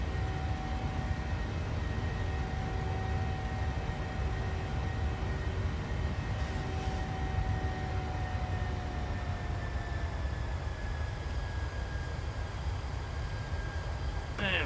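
Steady engine drone of a PMDG Boeing 737-700 climbing toward cruise altitude in a flight simulator on a Portland to Vancouver flight, a constant hum with faint whining tones throughout.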